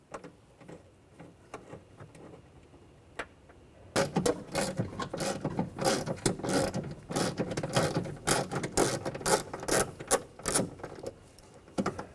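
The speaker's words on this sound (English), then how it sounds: "We're going to remove the two nuts up top." A ratchet drives a 10mm socket to remove nuts on a Ford Escape door, 2013–2019 model, with rapid close clicking bursts that start after a quiet few seconds and continue throughout.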